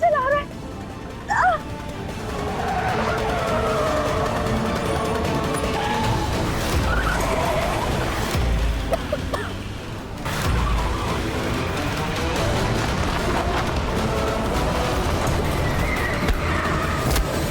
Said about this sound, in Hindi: ये गाड़ी वाला कैसे गाड़ी चला रहा है?